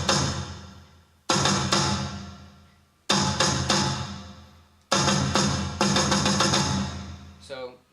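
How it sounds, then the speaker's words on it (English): Timpani-style drum hits played on a keyboard, three loud sustained strikes or rolls that decay between them, followed by a brief softer tail at the end, heard alone. "and then the timpani part would go like this."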